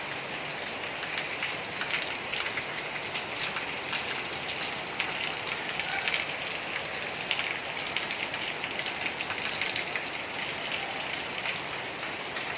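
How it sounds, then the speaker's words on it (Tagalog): Heavy rain falls steadily outside a house garden, a dense, even hiss of drops on surfaces that holds at a constant level throughout with no talking. "We can do nothing today outside because it's a lot of rain. It's raining outside."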